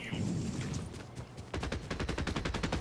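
SMG spray in a Fortnite trios match: after a muddled first half, a fast burst of a dozen or so closely spaced shots rattles out, loud and up close.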